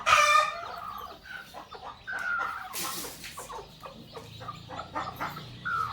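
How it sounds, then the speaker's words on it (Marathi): A country hen clucks and squawks up close while her newly hatched chicks peep in short, high bursts throughout. "मी ती आता कोंबडी खाली ठेवते आणि तिची पिल्लं पण ठेवते"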